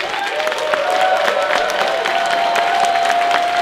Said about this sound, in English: So give it up,